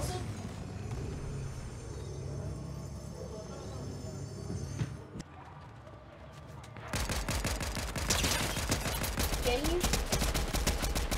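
Rapid gunfire from the video game Fortnite bursts in during the latter part, dense repeated cracks following quieter game ambience, with players talking over it.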